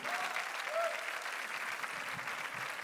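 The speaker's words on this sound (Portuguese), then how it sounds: "uma salva de palmas para esse rapaz" Audience at an acoustic rock concert bursts into sustained applause, a dense, even wash of clapping from a large crowd that holds steady throughout, with a faint voice briefly heard through it.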